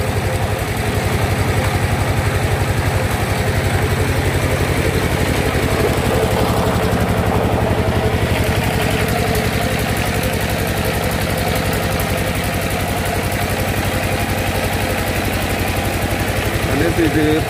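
Water well drilling machine engine runs loud and close, a steady rumbling drone with a rapid chugging pulse that holds for the whole stretch, with voices faintly underneath.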